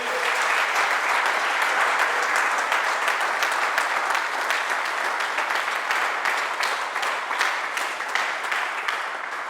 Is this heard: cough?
no